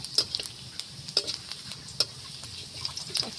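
Chopped ginger fries in a pan while being stirred, a soft continuous sizzle broken by quick, irregular ticks and scrapes of a spatula against the metal.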